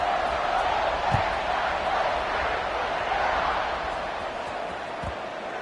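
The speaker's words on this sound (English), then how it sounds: "this crowd is buzzing after that last score" A college football video game stadium crowd, a dense, steady roar of cheering and buzzing that fills the scene, with a couple of faint thuds underneath.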